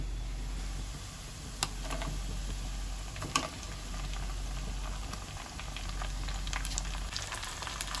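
Quiet, steady sizzling of two chopped tomatoes frying in a pan for mutton curry, broken by a few faint clicks and taps.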